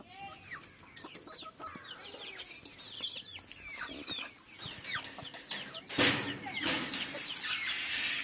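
A flock of free-range native chickens clucks and chatters while feeding, with many soft, overlapping calls close by that grow busier and louder toward the end.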